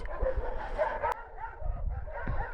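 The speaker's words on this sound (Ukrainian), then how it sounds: "собачки оці гавкають" Small dogs barking at a distance at a countryside dacha on a frosty day, faint yips and barks repeating irregularly over low outdoor background.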